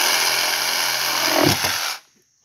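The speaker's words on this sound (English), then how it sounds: "you're going to use a jigsaw to cut the last little bit out so you don't have an overlap" Jigsaw buzzing steadily through a wooden stair stringer, close and loud, with a brief rougher surge near the end before the saw cuts out abruptly into silence.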